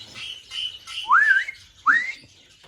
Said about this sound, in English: Now, I apologise about the birds.